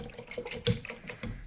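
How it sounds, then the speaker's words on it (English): A paintbrush is rinsed under running tap water, a short run of splashing and trickling with a brief louder gush partway through, close by and with no talking. "Wash off my brush."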